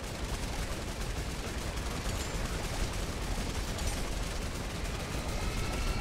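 Dense, continuous gunfire from a Fortnite zombie-mode match, a steady barrage of shots blending into a loud, unbroken wash of noise with no clear gaps.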